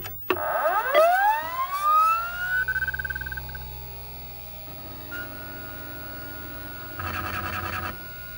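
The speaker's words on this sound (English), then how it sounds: "This machine does have about the best startup sound ever." A Tandy 1000 computer starts up with a loud click, then a rising, siren-like electronic sweep that settles into a steady tone and fades under a low hum, with a brief rattling buzz near the end.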